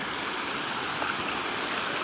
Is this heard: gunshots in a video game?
no